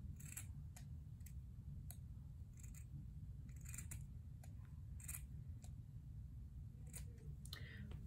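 Scissors cut through a Puma sock with a series of sharp, close, irregular snips over a low steady background hum.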